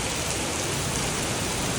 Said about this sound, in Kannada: ಜೋರು ಮಳೆ ಶುರು ಆಗಿದೆ